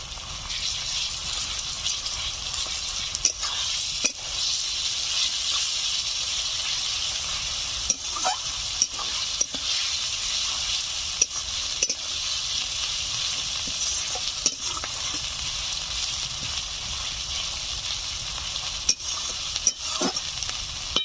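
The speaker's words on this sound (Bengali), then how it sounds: "দেখুন পেঁয়াজগুলো লালচে করে ভেজে নিয়েছি, এখন দিয়ে দিচ্ছি টমেটো, দিয়ে দিচ্ছি আদা রসুন বাটা" Tomato and ginger-garlic paste hit onions already fried reddish in hot oil for a chicken and new-potato curry, giving a steady, close, loud sizzle with occasional stirring clicks and scrapes throughout, no talking.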